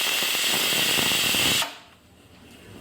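A pressure cooker on a gas stove lets out a loud, steady hissing whistle while cooking dal, which cuts off abruptly partway through and leaves a quiet background.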